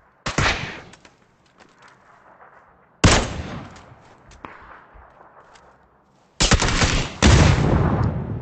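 Gunfire rings out during a firefight in PUBG Battlegrounds, three separate bursts of sharp shots several seconds apart, the last one longest and loudest, with quiet gaps between.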